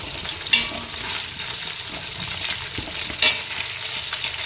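Onion pieces and green chillies frying for veg biryani give a steady close sizzle, broken by two sharp spatula scrapes against the pan, with no voices.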